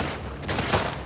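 Gunfire in The Last of Us 2, two or three close, sharp shots in quick succession over a steady game background hum, with no talk.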